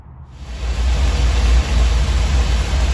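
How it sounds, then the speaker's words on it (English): A Dodge Ramcharger with a 440 V8, warmed up to operating temperature and idling, gives a loud, close, steady low rumble with a constant hiss that starts abruptly and runs without a break. "The engine up to operating temperature."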